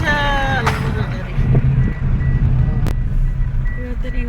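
A large, heavily loaded truck idling close by with a steady low engine rumble, while repeated reversing beeps and a voice sound over it.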